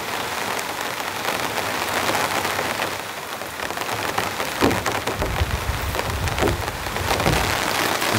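Heavy rain pounds steadily on a camping tent during a rainstorm with strong winds, a dense close drumming patter with louder gusty surges and occasional heavier drips, no voices.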